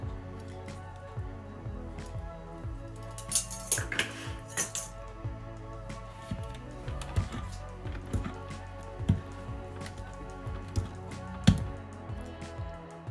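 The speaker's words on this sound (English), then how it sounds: "Now I'm mixing my vanilla flavor and lime juice together" Spoon mixing vanilla flavoring and lime juice together in a bowl while baking a key lime pound cake, giving soft, irregular clinks and wet squishing taps over a quiet background.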